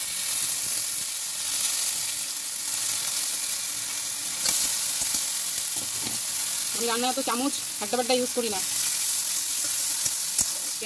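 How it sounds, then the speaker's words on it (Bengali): Grated onion sizzles in hot oil with panch phoron five-spice seeds, a steady close hiss running throughout, with someone talking briefly over it near the end. "আমার পাঁচফোড়নটা রেডি হয়ে গেছে, আমি একটু পেঁয়াজ ঘষা দিয়ে দিলাম।"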